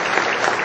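At a motivational seminar, a hall audience applauds a volunteer who has come up on stage, a dense, steady clapping that stays loud and even for a short burst.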